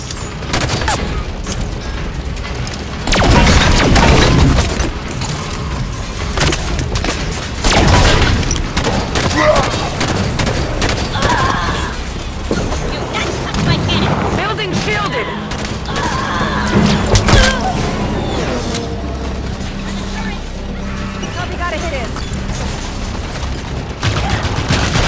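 Halo 5: Guardians combat on Xbox One: dense rapid gunfire and heavy explosions against enemy cannons, loud and continuous with booming bursts, under occasional game dialogue.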